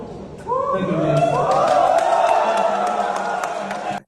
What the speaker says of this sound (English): And they're all clapping for him.